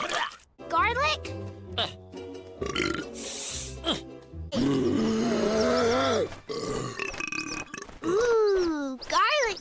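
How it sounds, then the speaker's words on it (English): The cartoon alien Stitch lets out long, gurgling garlic burps and grunts, loud and up close. Cartoon voices and music swirl around the belches. "Ooh, garlic burp."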